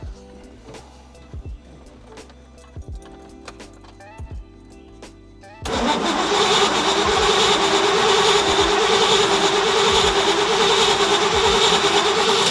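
A 1967 Pontiac GTO fitted with a Haltech ECU cranks in several short bursts with clicks, then fires up about halfway through and settles into a loud, steady rumbling idle that continues to the end.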